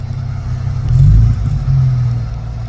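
A BMW E28 car drives past close by, its engine rumbling loud and low and swelling as it accelerates briefly, with no voices over it.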